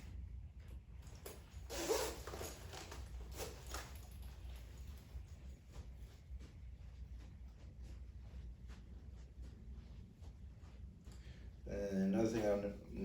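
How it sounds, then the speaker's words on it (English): A zipper on a Hawkeye UV body armor carrier is drawn closed near the end in a short, close rasping run, following a stretch of quiet handling noise and rustling. "and we'll zip it up"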